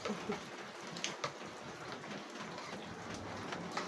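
Steady rain falls in cold weather, a dense close patter of drops on surfaces that continues without a break throughout.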